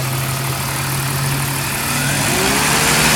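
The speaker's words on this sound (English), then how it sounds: "Do you hear the engine run?" A six-cylinder inline BMW engine with a performance package idles steadily at close range, a low constant hum with a faint rising tone toward the end, no talking.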